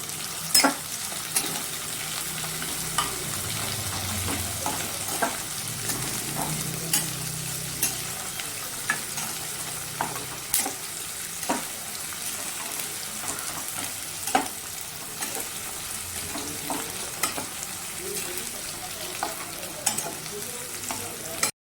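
Onions browning in a pan give a steady close sizzle, broken by regular sharp scrapes and taps as a spatula stirs them, with no speech.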